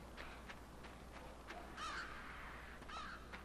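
A crow in the dark puzzle game Limbo caws twice, a pair of hoarse calls set apart by about a second, moderately close over a hushed, murky ambient backdrop.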